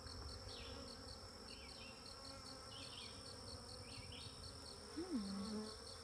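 Honey bees hum around an open hive during an inspection, a steady faint buzz with occasional individual bees droning closer, and no talk.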